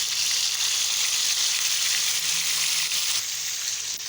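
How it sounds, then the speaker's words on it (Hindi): Chicken shallow frying in hot ghee in a pan, a loud, dense, close hiss and sizzle holding steady without pause. "अब मैं इसमें चिकन डाल के इसको शैलो फ्राई करते हैं।"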